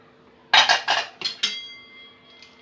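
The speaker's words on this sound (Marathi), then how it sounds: "झाकण उघडून बघूया।" A pressure cooker lid is opened after cooking chicken soup, with a quick series of sharp metallic clanks and clinks, close and bright, followed by a faint lingering ring.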